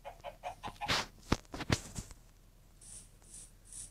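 A chicken clucks in a survival video game, with a run of short rhythmic clucks and a few sharper louder ones, followed by quieter repeating high tones.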